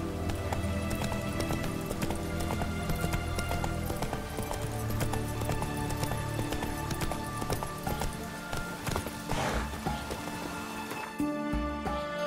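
Geralt's horse Roach gallops in The Witcher 3 game, steady hoofbeats running continuously under dense game music and ambient rain-like noise, with no talking.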